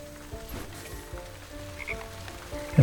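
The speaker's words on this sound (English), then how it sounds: "Yeah, we'll get some more frogs." Frogs croak in the Wytchwood video game: a soft, steady chorus of low rhythmic croaks sits under faint ambient patter, and a brief louder bump comes at the very end.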